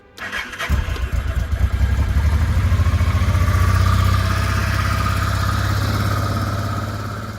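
A Honda NTV 650 V-twin motorcycle engine starts up close by, then settles into a steady, loud, low idle that rumbles on without any talking.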